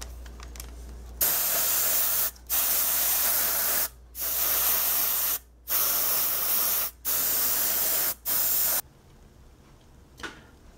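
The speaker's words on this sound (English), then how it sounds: "now it's time for me to use my airbrush and paint the entire model with the main color" Airbrush spraying paint onto a Tamiya Chieftain tank model hisses in six steady bursts of a second or so each, separated by short pauses, close and alone.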